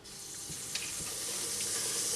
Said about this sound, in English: So my pan has started to sizzle